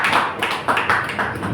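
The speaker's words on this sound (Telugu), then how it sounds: "అందరం చప్పట్లు పడి ఆహ్వానిస్తాము" An audience claps together to welcome speakers at a church servants' conference: a brief, steady burst of fairly loud, dense applause with no voices over it.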